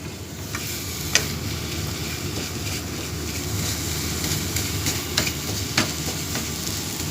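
Grated coconut for coconut halwa is stirred in a pan over a low flame, giving a steady soft sizzle with occasional scraping clicks of the spoon, close by and with no talking.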